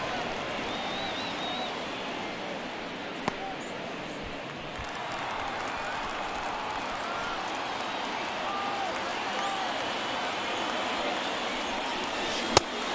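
Baseball stadium crowd murmurs in MLB The Show, a steady wash of distant fan noise with occasional sharp knocks, under faint commentary.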